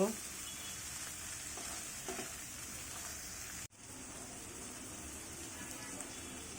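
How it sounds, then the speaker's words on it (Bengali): Onion, ginger and garlic sauté in a pan in a home kitchen, giving a steady dense sizzle throughout, with a brief dip in the middle as the pan is stirred or moved, and no talk. "পেঁয়াজ আদা রসুনের কাঁচা গন্ধটা যাওয়া পর্যন্ত এটা আমরা কষিয়ে নেব"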